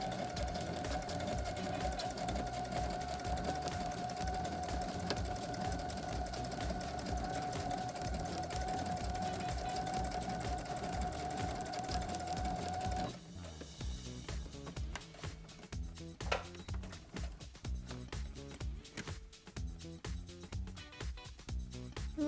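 A Brother CS7000i sewing machine stitches a cowboy hat seam with a steady, close mechanical whir for about thirteen seconds, then the hum stops and gives way to irregular clicks and taps.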